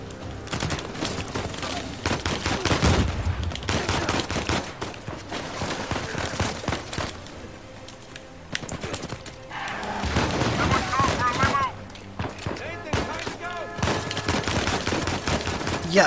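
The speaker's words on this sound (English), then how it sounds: "who the fuck is shooting me?" Sustained gunfire in Uncharted 4, heavy automatic bursts and booming shots overlapping with game music and effects, loud and continuous throughout.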